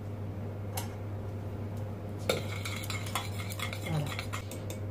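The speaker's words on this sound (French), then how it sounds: "On mélange." A utensil clinks and scrapes against a bowl while tossing a leek salad with vinaigrette and toasted sesame seeds, with irregular close taps over a low steady hum and no talking.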